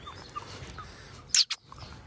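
A young Lakha Aseel rooster in a cage gives one short, sharp gobbling call after a quiet stretch, close by and alone against light background noise.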